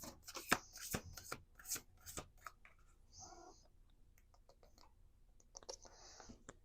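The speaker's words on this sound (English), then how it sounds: "Let's do 2 more shuffles." Quick riffling snaps of tarot cards being shuffled in bursts, then softer sliding and rubbing sounds, close and fairly quiet.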